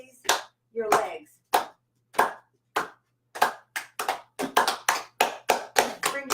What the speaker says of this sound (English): Now I want you to clap your hands in front of you and raise your legs.